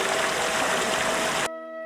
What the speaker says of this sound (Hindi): दूर पहाड़ से बहता झरना दिख रहा है